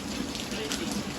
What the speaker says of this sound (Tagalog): Grabe po, lakas ng ulan mga kabeshi.